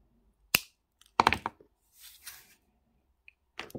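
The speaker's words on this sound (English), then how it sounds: "at the back, I'm just going to cut these wires quite short" Wire cutters snipping jewelry wires short on the back of a pepper pendant, a few sharp close clicks and snaps with quiet handling in between.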